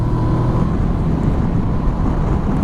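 A Kawasaki Versys 650 parallel-twin motorcycle under way on the road, a loud steady engine drone blended with rushing wind noise, constant throughout with no change in pace.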